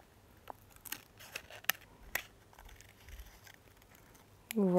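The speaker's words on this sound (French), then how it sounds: "je vais prendre mes ciseaux" Scissors snip through black Canson paper in a handful of quiet, separate cuts with soft paper rustle, followed by a brief loud sound at the end.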